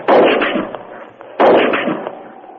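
Two loud rifle shots from an old radio drama sound effect, each a sharp crack with a decaying boom, spaced about a second and a half apart and heard alone.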